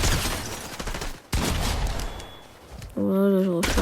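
Gunfire from a video game plays as a dense, loud burst of shots with heavy low booms. It breaks off briefly, then comes back mixed with a tonal game sound effect.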